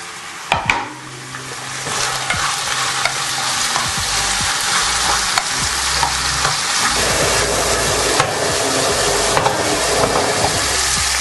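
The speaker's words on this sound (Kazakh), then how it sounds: "Шампиньонымызды саламыз." Champignon mushrooms fry with chicken and onion in oil, a continuous close sizzle broken by repeated utensil scrapes and taps as the pan is stirred.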